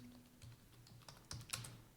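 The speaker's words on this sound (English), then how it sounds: "I type in the name of my map or title" A few quick keystrokes on a computer keyboard while a map title is entered, faint and close, with soft irregular clicks ending in a slightly louder tap.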